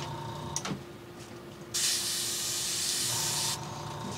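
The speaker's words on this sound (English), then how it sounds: "Let me see how it's spraying there." A close paint sprayer lets out a sharp burst of hiss, then a sustained loud spray lasting about two seconds over a steady mechanical hum.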